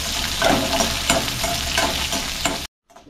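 Dried red chillies, garlic cloves and lentils frying in oil for a chutney, a steady loud sizzle broken by several scraping stirs, then cutting off abruptly near the end.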